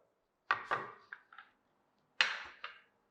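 A knife chopping pistachios, almonds and other dry fruits into small pieces on a board, a few sharp close knocks in two short bursts, alone.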